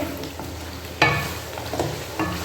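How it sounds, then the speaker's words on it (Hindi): Black pepper roasts in a mutton karahi for white karahi, giving a soft sizzle broken by a few sharp spoon scrapes and clinks against the pan, close and alone. "1/2 टीस्पून के करीब मैं इसके अंदर काली मिर्च काली मिर्च डाल के इसको थोड़ा सा भूनेंगे"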